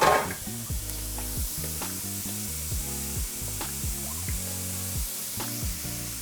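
Vegetables fry in hot oil in a pan, giving a steady, close sizzle that holds evenly throughout under light background music.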